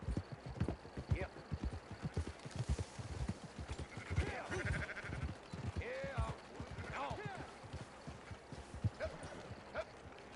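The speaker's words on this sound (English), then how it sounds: "look at all these fresh sheep we just happened to get" Sheep bleating in the Red Dead Redemption 2 video game, several short wavering calls over a busy bed of hoof clip-clop and game ambience, with someone talking over parts of it.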